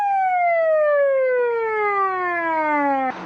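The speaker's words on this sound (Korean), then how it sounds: "119 구급차를 타고 급히 병원으로 이송되던 중" Korean 119 ambulance siren wailing as the vehicle rushes a patient to hospital, a loud steady tone gliding slowly downward over several seconds before cutting off abruptly.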